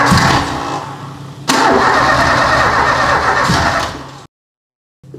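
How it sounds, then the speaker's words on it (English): An old motor cranks on its first start attempt in ten years, the starter churning loudly and rhythmically in two long bursts before it cuts to silence, then a brief click-like restart at the end. "So I would expect this engine to start somehow."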